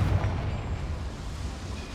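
Confringo fire-spell explosion in Hogwarts Legacy, set in a complex with boilers: a dense, low rumbling boom fills the whole stretch, loud at the start and slowly easing off while still sustained.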